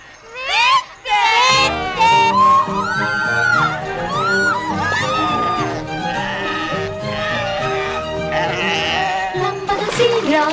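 Sheep bleating loudly and often in a crowded flock, overlapping cries filling the scene together with singing voices from an Estonian film song.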